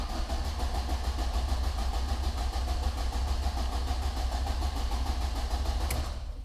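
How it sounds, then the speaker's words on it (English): A Ford Transit engine fitted with an aftermarket KMS MP25 ECU cranks without catching: a close, loud starter-motor churn with an even rapid pulse. It stops abruptly near the end. "I'm going to crank it now and make sure we should see a couple of 100 RPM."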